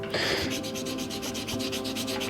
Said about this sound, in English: I am still removing a little bit of material with every polishing step